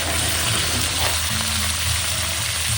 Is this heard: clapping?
no